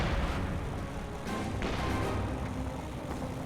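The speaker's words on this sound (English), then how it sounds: "This Churchill could be taken out by the artillery" Artillery fire in the Company of Heroes 2 strategy game during a Soviet and British heavy-armor battle against German forces: muffled distant booms and crackling impacts roll through a dense, fairly quiet battle din.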